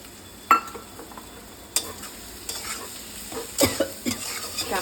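Leafy greens dropped into masoor dal frying in a pan, a sustained close sizzle broken by several sharp clatters and stirring scrapes of utensil on metal.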